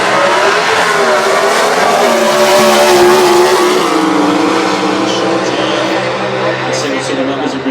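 Ford Falcon back-half drag car at a drag strip roars loudly down the track under hard acceleration, its engine note climbing steadily through the pass, with commentary speaking over it.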